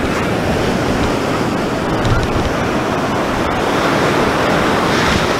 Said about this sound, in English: So here it is, the Atlantic Ocean.